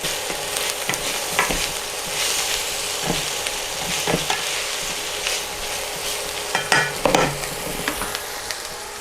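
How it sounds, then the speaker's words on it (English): Broccoli sautéing in a pot for cream of broccoli cheese soup, a steady sizzle with intermittent scraping and stirring clatters from a utensil against the pot, no voices. "We're going in with our broccoli. So the broccoli can sauté in there too before we add the stock."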